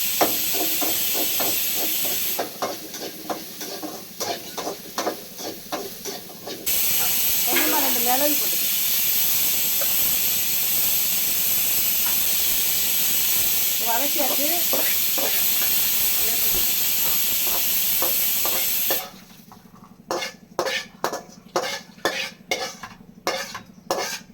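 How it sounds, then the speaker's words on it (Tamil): Intestine curry cooks in a pot, with a loud, steady steam hiss through the middle section. Bursts of rapid clinking and stirring come before and after it, and a voice briefly murmurs over the hiss. "உடல் வெந்துகிட்டு இருக்கு"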